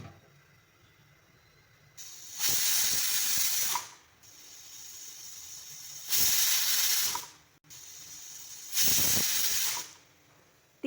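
Pressure cooker whistling loudly while boiling four potatoes and four onions, three long hissing whistle bursts each lasting about two seconds, separated by quieter stretches of low simmering rumble.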